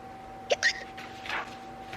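A quick pair of sharp hiccups, then a softer breathy one, voiced by a storyteller imitating a kitten's hiccups while reading a children's picture book aloud.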